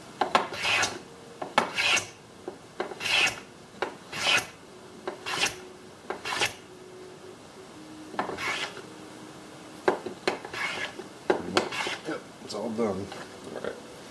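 A wooden chopstick blank is cut down on a tapering jig with a series of rough rasping strokes repeating about every second, then turning softer and more uneven near the end as the cut bottoms out, with a faint hum underneath.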